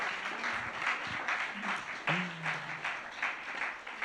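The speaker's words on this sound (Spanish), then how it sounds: "Sí, podem aplaudir" An audience applauds the speaker after a talk on faith, justice and social commitment, scattered clapping at moderate level mixed with some voice-like sounds and room noise.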